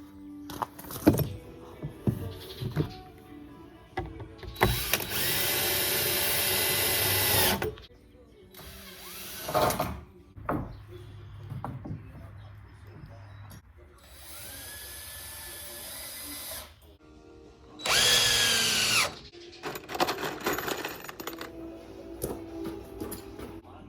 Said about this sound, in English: You just start drilling on each side and going down the line.